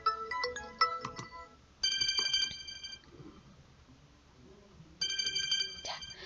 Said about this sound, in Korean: 저희가 스마트폰에 간단하게 벨소리를 바꿀 수 있는 걸 해봤는데요